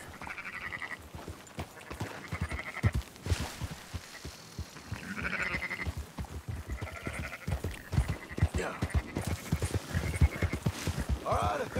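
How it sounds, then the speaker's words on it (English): Sheep bleat repeatedly in a flock while horses clip-clop nearby during a round-up in Red Dead Redemption 2, the bleats rising in clear bursts over steady hoofbeats, with brief talk mixed in. "Marston, why don't you leave the sheep to me?"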